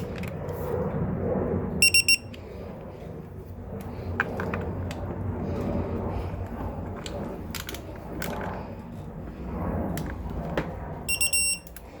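Electric tool beeping while snugging bolts in a crisscross pattern during a flywheel weight install on a 2018 KTM 250SX, with two short bursts of rapid beeps amid quiet clicks and handling noise.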